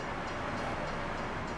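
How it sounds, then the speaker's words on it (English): A train rolls past in a video game set in a forest, a continuous broad rumble and roar that stays steady and close throughout with no talking. "It's the train."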